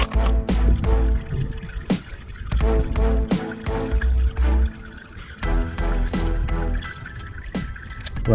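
Engine oil drips and trickles from the drain of a 2018 Mazda 3, with close, loud irregular drips and splashes over a low rumble.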